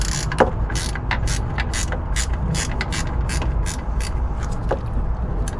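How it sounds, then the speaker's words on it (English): A ratchet wrench clicks in quick, regular bursts while working the alternator bolt on a 454 big block engine, close and crisp over low background hum, with no speech. "I'll put my wrench on there"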